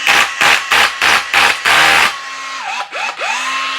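A rotary hammer drill whirs at full speed in five short, loud bursts, then runs once more and winds down, its pitch sliding as the motor slows and restarts.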